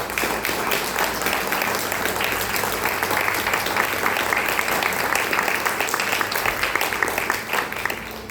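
A congregation in church gives a long round of applause during a family service, a sustained crowd of hands clapping, fairly close and uniform throughout.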